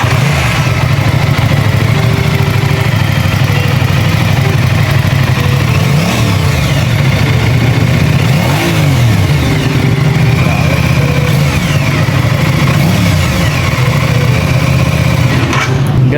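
Aprilia Tuono 660 motorcycle with a stock exhaust, running steady and close for a long stretch, its mild engine note rising and falling through a few gentle revs.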